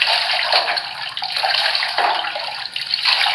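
Tap water pours steadily into a basin to bathe a chicken, a close, continuous splashing rush with slight gurgling shifts and no voices.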